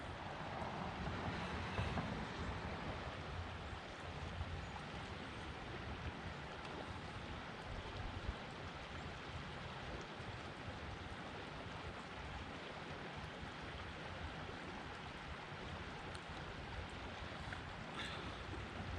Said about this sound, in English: we got some water raging down there